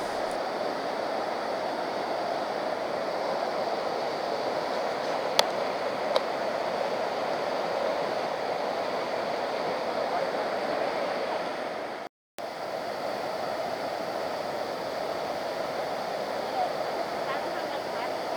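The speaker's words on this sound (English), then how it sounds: "Let's take another look at this magical waterfall." A steady, full rushing roar of the waterfall at High Falls Gorge fills the scene without a break, close and constant, briefly cutting out once near the end before resuming unchanged.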